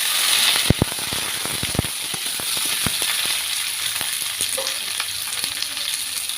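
Vegetables such as beetroot, pumpkin, potato and beans go into hot oil with panch phoron, giving a continuous close sizzle broken by sharp clicks and scrapes of stirring.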